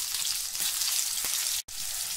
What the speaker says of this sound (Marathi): तेल आणि मिठावर ह्या छान मस्त भाजून घ्यायचे आहे